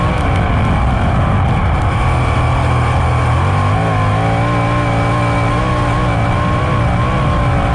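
A winged sprint car engine roars loud and close on a Michigan race track, holding a steady high drone that dips and shifts in pitch as the throttle eases on and off.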